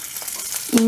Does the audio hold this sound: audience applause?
no